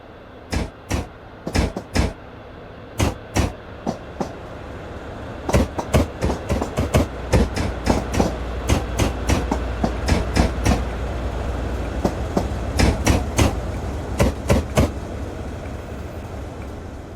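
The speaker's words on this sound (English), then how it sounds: "The train arrives into Renford Yard." Train in a simulator game, hauled by locomotive 37428, rolling into a rail yard: sharp, regular clickety-clack rail-joint clicks come in pairs and clusters over a steady rumble, the clatter quickening and growing denser as it goes.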